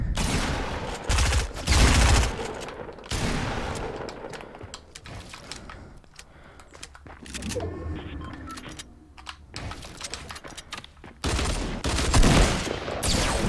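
Gunfire in the Fortnite Battle Royale video game: loud bursts of rapid shots at the start and again near the end, with quieter crackling and game effects in between.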